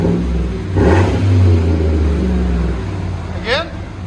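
A Chevy/GMC 5.3L V8 truck exhaust idles with a deep, steady rumble, swelling once in a short rev before settling back; a brief voice cuts in near the end.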